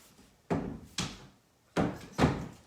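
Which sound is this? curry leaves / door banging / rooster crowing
door banging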